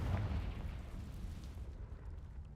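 Confringo fire spell blast in Hogwarts Legacy, a deep, rumbling explosion that hits loud at once and then fades into a low, lingering roar.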